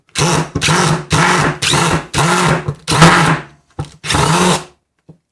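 A power drill drives a screw with a Milwaukee Shockwave impact bit, whirring in six or seven short bursts with brief pauses between, loud and close, ending in a quick final burst.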